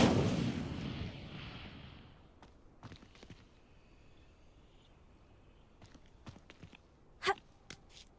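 Incendio fire spell cast in Hogwarts Legacy: a loud roaring burst of flame that fades over two seconds, followed by scattered soft thuds and a sharper knock near the end.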